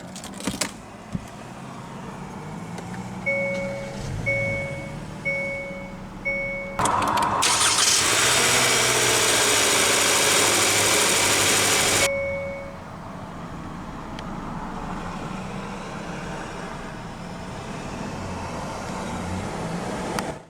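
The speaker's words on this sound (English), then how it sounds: "let's go ahead and start the engine" A 2024 Hyundai Tucson Limited AWD compact SUV sounds a few cabin chimes, then its engine starts with a loud, full burst lasting several seconds before easing into a quiet, steady idle, heard from inside the car with no talking.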